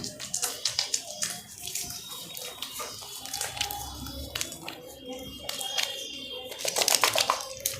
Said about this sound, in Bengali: অল্প একটু জল দিলাম।